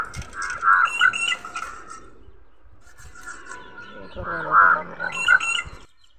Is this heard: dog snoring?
no